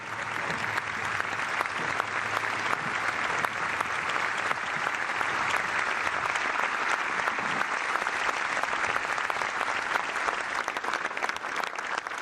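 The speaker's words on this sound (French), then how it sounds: "ces applaudissements saluent ceux qui ont libéré l'Europe" A large audience at the American cemetery applauds during a D-Day commemoration in Normandy, a dense, sustained wash of clapping that holds steady throughout without voices.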